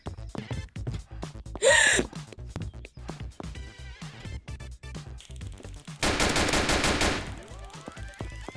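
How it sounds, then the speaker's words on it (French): Rapid gunshots in the Roblox game Emergency Hamburg sound as a steady series of sharp, close cracks, with a sustained burst of fire near the end and a brief breathy voice sound early on. "Je lui ai mis des balles."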